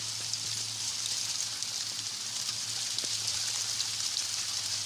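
Rain and hail pound steadily during a fierce storm, a dense, continuous hiss of drops striking surfaces close by with faint scattered ticks, no voices heard.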